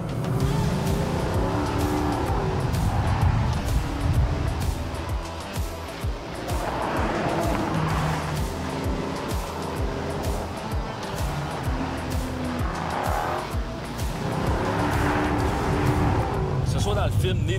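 Car chase from the film Bullitt with a Ford Mustang, loud continuous engine roar and passing cars throughout, with tire squeals and a voice speaking over the racing noise.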